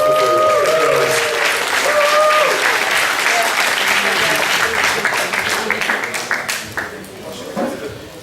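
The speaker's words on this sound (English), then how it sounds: "So let's give a very big applause to Kurt company" A seminar audience breaks into loud, dense applause that carries on for several seconds and then gradually thins and fades toward the end, with a voice speaking over the clapping early on.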